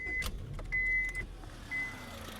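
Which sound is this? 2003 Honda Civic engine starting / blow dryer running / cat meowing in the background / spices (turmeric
2003 Honda Civic engine starting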